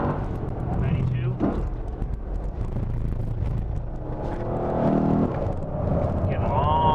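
A Lexus LC500 accelerates on a race track, its engine note rising in steady pulls heard from inside the cabin under a person talking, with tyre and road rumble throughout.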